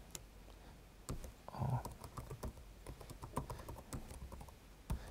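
Fingers type on a computer keyboard in quick, irregular bursts of close, crisp key clicks and taps, with no talking over them.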